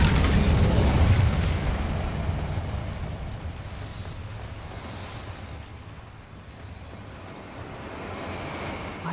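An Incendio fire spell cast in the game Hogwarts Legacy, a loud whooshing burst of flame at the start that fades into a low, windy roar.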